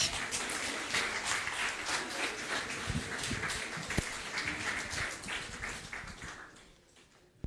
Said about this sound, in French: Est-ce qu'on peut applaudir Jésus pour ce qu'il fait?